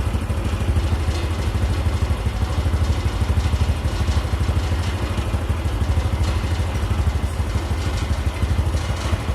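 A motorcycle engine idling steadily during carburetor RPM adjustment, a close, even, fast-pulsing putter that holds constant throughout with no voices over it.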